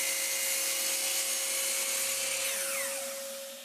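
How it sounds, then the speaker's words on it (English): A miter saw trims one edge of a wooden piece for a homemade router plane, giving a loud, steady whine that holds throughout and begins to fade in the final second, no voices. "I'm going to start off at the miter saw and I'm just going to clean up this one edge"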